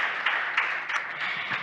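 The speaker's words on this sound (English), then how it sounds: "Round of applause for her." An audience at a journalism festival panel applauds a panelist with steady, moderately loud clapping and a few sharper individual claps, with no talk over it.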